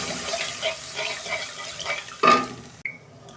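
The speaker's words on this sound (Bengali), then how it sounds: "আমি অল্প পরিমাণ মতো জল দিচ্ছি" Water pours steadily into a pan of fried spice mixture for a home-style eggplant dish. The pour is close and continuous, with a brief louder gush near the end before it cuts off.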